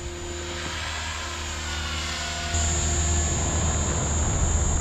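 Synergy 516 RC helicopter flying in a field during light 3D maneuvers, a steady high-pitched rotor and motor whine that rises slightly in pitch partway through and stays loud throughout.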